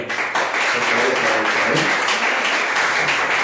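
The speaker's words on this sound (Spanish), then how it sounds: "Yo les pido que le den un aplauso al Señor." A church congregation applauds during a Spanish-language worship service, sustained crowded clapping filling the room at a steady level, with voices mixed in under the applause.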